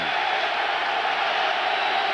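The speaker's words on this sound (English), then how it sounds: "Big-time crowd noise here in Baltimore" A Baltimore stadium crowd at a 1996 NFL game against New England makes a dense, continuous roar, a steady wash of cheering and shouting that holds level throughout with no clear voice standing out.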